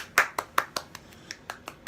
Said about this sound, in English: Claps for her.